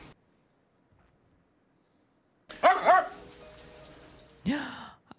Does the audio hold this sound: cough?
no